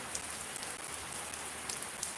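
Steady rain falling on surfaces in Shariatpur, a soft, even hiss of drops without a break, moderately quiet and heard on its own with no voices.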